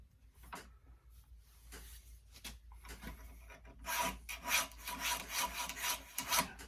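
A metal file rasping along the hard steel blade of red-handled sheep hoof trimmers clamped in a vise, a few slow scrapes at first, then steady, louder back-and-forth strokes close up.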